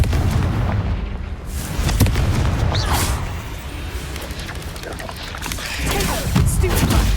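A Confringo fire spell in Hogwarts Legacy, bursting as a string of loud, close booming blasts and crackles over dense combat noise.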